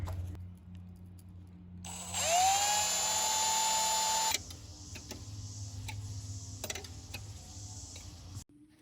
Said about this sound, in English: so Dan's gonna drill that out